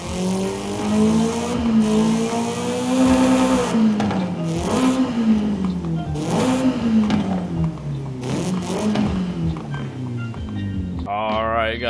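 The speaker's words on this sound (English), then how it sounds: "let's go ahead and listen to the engine real quick" A tuned 250hp Nissan S13 in Forza Horizon 5 revs loudly and repeatedly, its engine note climbing and falling in sweeping pitch arcs, close and dominant throughout.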